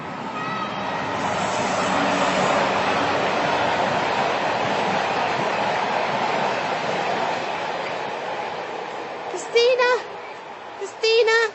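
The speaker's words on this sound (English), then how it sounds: "There's a train coming." A passing train rumbles outdoors in a natural setting, a broad sustained roar that swells and slowly fades over several seconds, followed by brief voices near the end.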